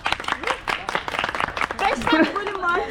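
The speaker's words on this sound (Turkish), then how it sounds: "Begüm'e kocaman alkış." A group claps for a woman player after a five-a-side football match between men and women, a quick burst of scattered claps close by, mixed with talking and laughing voices.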